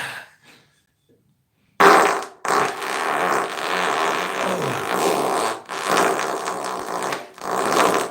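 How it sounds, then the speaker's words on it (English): A person lets out one long rasping fart, loud and close, lasting several seconds with a couple of brief breaks before trailing off; a few faint sounds precede it and no one speaks. "it's difficult holding this and farting at the same time"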